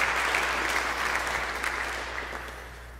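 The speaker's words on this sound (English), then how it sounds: "We clap for you." A church congregation applauding during a Sunday sermon, a steady wash of many hands clapping at moderate volume that slowly fades, with no voices over it.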